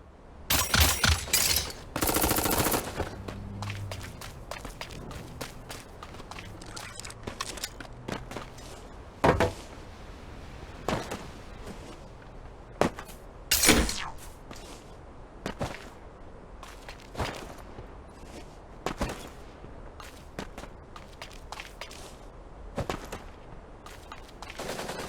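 Gunfire crackles in the mecha battle game Super Mecha Champions, with rapid bursts early on, then scattered sharp single shots and short volleys over a quiet background.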